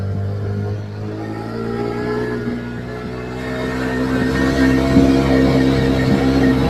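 A motor engine drones steadily and strains under load, growing slightly louder toward the end, with no one speaking.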